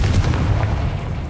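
A Confringo fire spell goes off in Hogwarts Legacy with a short, deep booming blast that rumbles low and loud for about a second.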